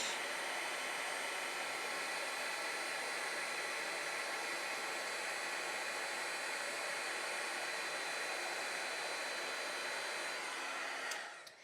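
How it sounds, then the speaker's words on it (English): An embossing heat tool blows hot air on embossing powder held about an inch from a paper surface, a loud, steady close-up whooshing roar that cuts off abruptly at the end. "you want to just kind of keep your heat tool about 1 inch away and go around the edge"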